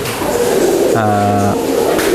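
Racing pigeon cooing close up, a single low, throaty coo lasting about half a second, set against a loud, steady background of other birds and ambient noise.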